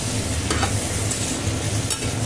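Tomato, ginger and cumin sizzle steadily in hot oil for a small hilsa curry with eggplant, a dense continuous frying hiss with faint stirring scrapes throughout, close and even, with no one speaking.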